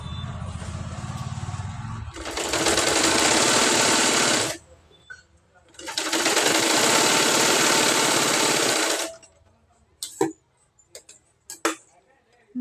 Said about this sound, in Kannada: ಮಡ್ಚ್ಕೊಂಡು ಹೊಲಿಗೆ ಹಾಕೋರಿ